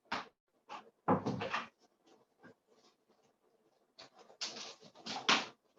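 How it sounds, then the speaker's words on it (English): A door in a home where puppies wait on a bed opens with a series of light knocks, creaks and clunks, close by and fairly quiet, without talk. "can they both maintain that position while the door opens?"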